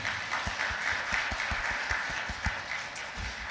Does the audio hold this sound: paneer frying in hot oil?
no